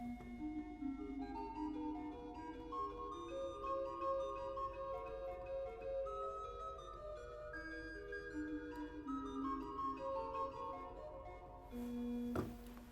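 Bright, clear pipe organ four-foot stop playing a lively melodic line alone, steady and sustained, ending on a held note with a brief click.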